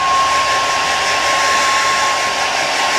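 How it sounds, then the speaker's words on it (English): A hairdryer running on its cool setting to dry eyebrow glue blows in a loud, steady close-up whoosh with a faint constant whine, unbroken for the whole stretch. "Using a hairdryer in a cool setting."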